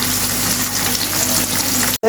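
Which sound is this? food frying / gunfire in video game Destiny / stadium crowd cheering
food frying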